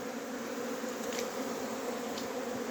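Honey bees (Apis mellifera) hum in a dense, continuous buzz at the hive entrance during a young bee orientation flight on a September morning, close and steady with no talk.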